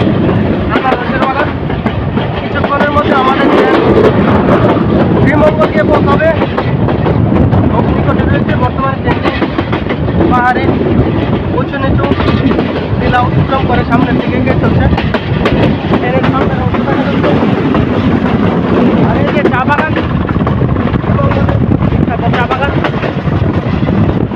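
The Parabat Express running at speed between Dhaka and Sylhet past hills and tea gardens, a loud steady rumble and clatter with wind rush throughout, a voice talking over it.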